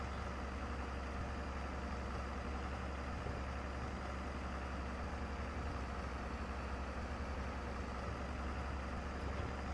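A tractor engine idles steadily in Farming Simulator 22, a low continuous rumble that holds unchanged throughout with no talk over it.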